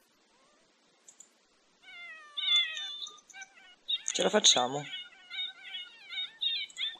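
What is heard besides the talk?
cat meowing in The Sims video game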